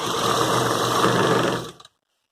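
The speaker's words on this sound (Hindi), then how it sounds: "बिल्कुल आराम से इसको हम ऐसे सिलाई लगाते हुए चलते हैं।" A sewing machine stitches the lining of a ready-made collared suit, running in one steady, loud mechanical whir for nearly two seconds before stopping abruptly into silence.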